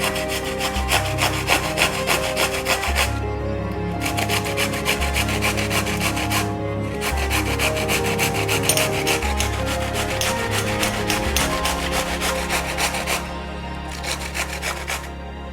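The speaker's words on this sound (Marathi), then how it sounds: "आता खिसून घ्यायची काकडी." Peeled cucumber rubbed against a kitchen grater in steady, rhythmic rasping strokes, loud and close, with brief pauses between bursts of grating and no talking.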